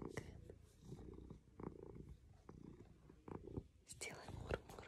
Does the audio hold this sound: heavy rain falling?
no